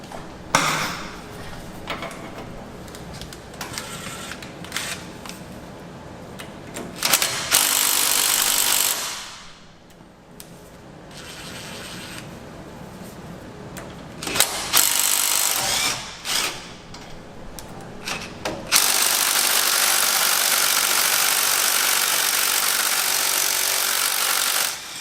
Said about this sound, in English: that vibration definitely helps break everything loose whenever you're working with any sort of impact.